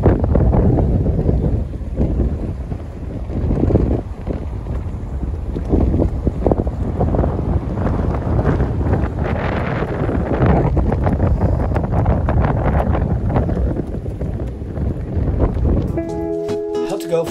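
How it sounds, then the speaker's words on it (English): Steady loud wind buffeting on a sailboat at sea off Panama, a continuous roar with boat and water noise underneath, a voice speaking over it briefly. "Wind is picking up a little again."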